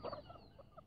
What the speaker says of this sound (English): These are my chickens.